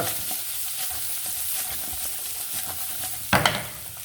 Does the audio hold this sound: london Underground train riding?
no